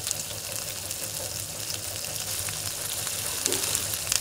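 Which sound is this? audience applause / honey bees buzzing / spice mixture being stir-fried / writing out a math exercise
spice mixture being stir-fried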